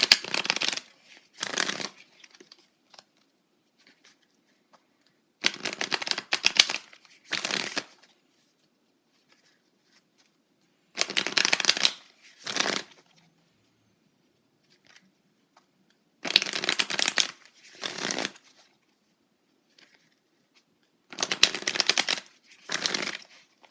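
Tarot cards being handled and shuffled in five separate bursts of riffling and crisp card slaps, spaced a few seconds apart with near silence in between, close and clear with no talking.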